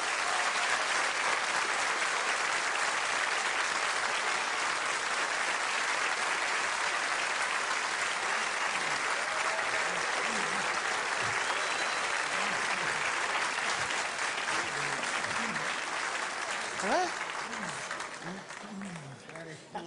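Studio audience on a Belgian television comedy show greets a comic duo with loud, sustained applause filling nearly twenty seconds, thinning and fading near the end as a voice begins speaking over it.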